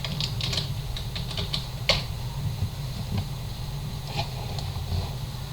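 Keys clatter on a computer keyboard as domain user credentials are typed in, a close run of quick, uneven clicks with a few sharper strokes and a faint hum beneath.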